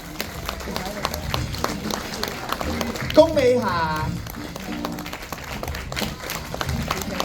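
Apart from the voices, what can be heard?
audience applause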